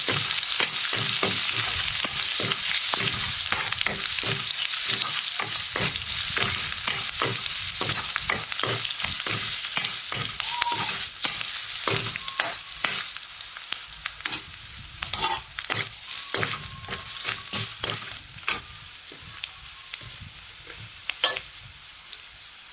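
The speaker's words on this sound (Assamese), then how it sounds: "এতিয়া ভাজি ল'ম নিমখ আৰু অংগুৰাখিনি তেলত।" Salt and other ingredients fry in hot oil with turmeric, hissing steadily while a spoon scrapes and clicks against the pan in quick, repeated strokes that grow more broken toward the end.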